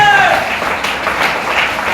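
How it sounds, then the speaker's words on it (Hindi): A seminar audience applauds loudly, with dense, continuous clapping from many hands that fills the whole moment, and voices mixed in. "ताली जोरदार बजाएं।"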